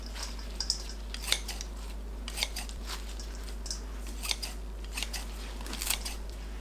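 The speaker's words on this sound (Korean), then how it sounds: "새발나무를 가위로 너무 길지 않게 자릅니다." Scissors snipping saltwort greens (sea-blite stems) into short lengths in a kitchen, a steady series of crisp, close cuts repeating about every half second, with no talking.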